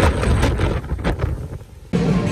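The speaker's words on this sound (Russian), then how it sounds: "А на улице, знаете, так ветрено." Strong wind buffeting a microphone outdoors on a blustery spring day in France, a loud, continuous rumbling roar with gusts that dip briefly and then surge back abruptly near the end.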